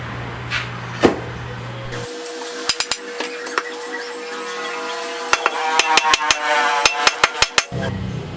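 Hammer blows drive a head onto a handmade wooden mattock handle, sharp metallic strikes arriving singly and then in quick irregular bursts, loud and close with no talking.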